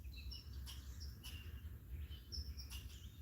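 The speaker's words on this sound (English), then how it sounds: "Bunch of birds." Several birds chirp and call in short scattered bursts outdoors, fairly faint over a low rumbling background with no one talking.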